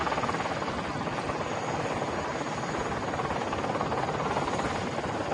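A helicopter flies close by, its rotor a steady, loud, continuous rumbling roar that holds an even level throughout with no voices.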